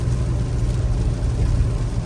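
A 2018 Toyota Tacoma with a FlowFX cat-back exhaust gives a steady, low, throaty rumble while downshifting, loud and close with no voices.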